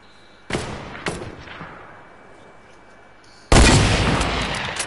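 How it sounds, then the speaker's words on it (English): Hunting rifle fire in a sniper video game: two sharp, loud shots close together, then a quieter lull and a third heavy blast with a long, booming tail. "I'm getting my hunting rifle out."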